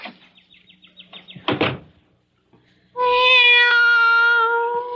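A cat meows in a radio drama setting, after some clattering door or cupboard noises and a brief pause, then a long, loud, drawn-out meow close by.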